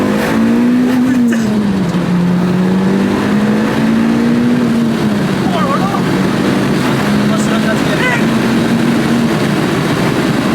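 Modified Audi S3 8L sleeper tuned past 500 hp pulling hard, its engine note sweeping up and down with a steady loud roar and shifts across ten seconds, wind noise and a passenger voice faintly mixed in.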